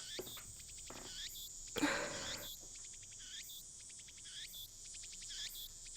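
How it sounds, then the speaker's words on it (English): Cicadas shrilling in steady, pulsing bursts across a quiet, deserted place in the Steins;Gate Elite game, with one brief rustling burst partway through and no voices. "where the cries of cicadas resound"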